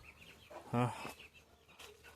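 A black hen and other chickens clucking near the coop, a short loud harmonic squawk in the middle standing out over softer background clucks and faint yard noise.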